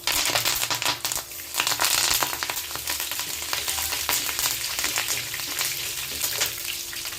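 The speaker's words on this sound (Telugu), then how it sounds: "కరివేపాకు కూడా వేసేద్దాం" Steady, dense sizzling of curry leaves frying in hot oil, loud and close, with crackling pops throughout and no talking.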